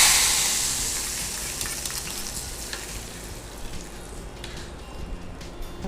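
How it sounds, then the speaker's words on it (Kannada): A tempering (oggarane) of mustard seeds, cumin, curry leaves and dried chilli in hot oil, poured out after the heat is switched off. A loud, close sizzle opens and slowly fades to a softer hiss, with no talk. "ಹಾಕುವ ಒಗ್ಗರಣೆ."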